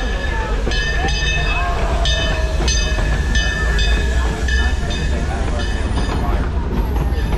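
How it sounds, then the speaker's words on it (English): A train rumbles past close by at Silver Dollar City in Branson, Missouri, a steady heavy roar with squealing metallic tones and a horn-like tone, under a crowd's murmur. "Yeah, the train's here."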